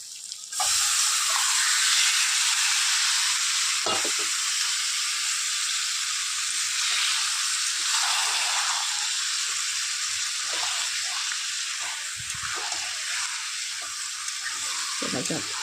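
Chicken pieces added to hot spice masala and frying in a pan: a loud, steady hiss of sizzling that begins abruptly and runs continuously, with brief faint stirring knocks underneath.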